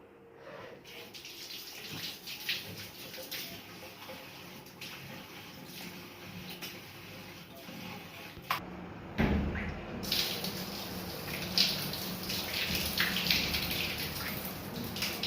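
A young child washes hands with soap under a running tap at home, a steady rush of water flowing for the whole stretch, briefly hushed midway before splashing on more strongly.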